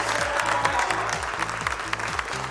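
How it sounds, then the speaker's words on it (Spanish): A TV game show studio audience claps loudly and continuously for a few seconds, with rhythmic studio band music pulsing underneath. "Fuerte el aplauso para el Chino"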